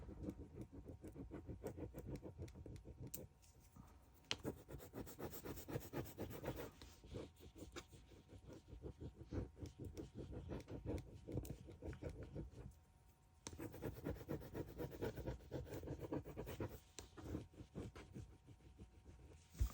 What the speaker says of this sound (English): now we're just going to go ahead and rub down on the whole image